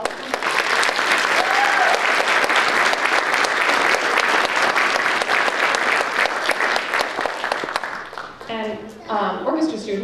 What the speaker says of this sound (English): all of them, another round of applause?